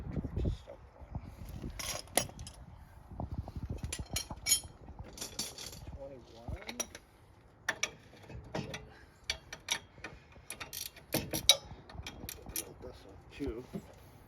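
Ratchet clicking in short bursts while a bolt is worked loose from the badly corroded suspension of a 2003 car during a control arm and ball joint replacement, close and irregular, mixed with clanks and occasional talk.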